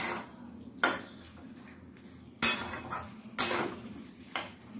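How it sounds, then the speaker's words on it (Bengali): Young jackfruit curry is stirred and scraped in a pan with a utensil, giving a few sharp metallic knocks and clatters spaced apart over a low, quiet background. "আবারও এটাকে বেশ নাড়াচাড়া করছি"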